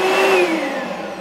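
An Oreck LW100 magnesium upright vacuum cleaner with a fault that stops it starting properly whirs to life loudly for a moment, its motor whine sliding down in pitch as it cuts out and winds down, with no voices.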